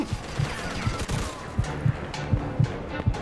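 Gunfire in Mafia II Definitive Edition sounds as a string of sharp shots and bursts, spaced irregularly over a noisy game background, moderately close.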